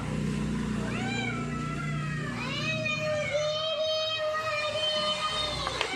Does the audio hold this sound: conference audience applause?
no